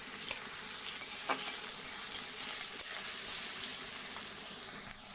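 Onions with chopped green and red chillies fry in a pan toward golden brown, a quiet even sizzle running throughout with occasional faint stirring clicks and no voices.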